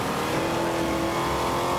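Cars race and rev in a video game, a continuous engine drone with a steady pitched whine, loud and unbroken, with no talk over it.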